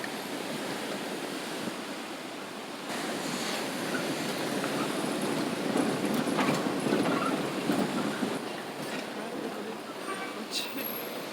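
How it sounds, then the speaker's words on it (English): Ocean surf crashes against the shore beside a new coastal highway in St Thomas, Jamaica, a steady broadband roar that swells and recedes, fairly close and loud, with no talk over it. "Got the crashing waves."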